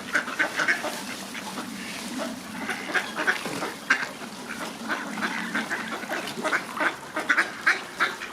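Ducks quack and honk repeatedly while being fed berries in icy water, a busy overlapping chorus of calls over a soft watery background.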